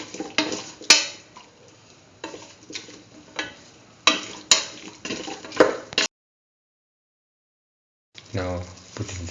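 Spoon stirring salt into pumpkin beef rice in a pot, a series of irregular clinks and scrapes that stop, then after a pause a short burst of stirring returns.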